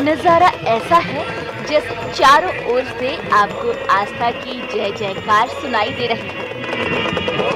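Horses' hooves clip-clop through a Kumbh Mela Peshwai procession in Prayagraj, where saints ride camels and horses with band music; the hoofbeats sound as scattered clicks under continuous close narration and crowd noise.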